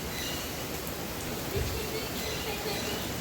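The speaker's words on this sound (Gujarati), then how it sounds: "કેવી રીતના વરસાદ કડક છે ને" A heavy downpour makes a dense, unbroken hiss of falling water. It is close and steady for a few seconds.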